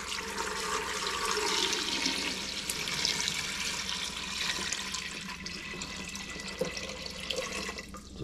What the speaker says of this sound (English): I'm gonna cover them with cold water.